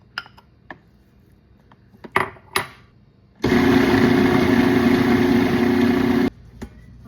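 A blender blends lemongrass paste with garlic, chili pepper and turmeric powder in a loud, steady whirring roar of about three seconds. Light clinks and taps come before it, and a quieter tail follows.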